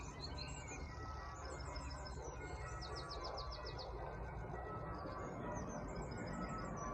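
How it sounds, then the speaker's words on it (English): Birds sing at sunset near Sawley Bridge, with repeated bright chirping phrases and trills over a soft, steady outdoor background hum, fairly faint and distant. "the sound of the birds."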